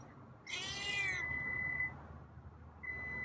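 A single close meow from a cat, short and bright, followed by a faint high electronic tone in a quiet room.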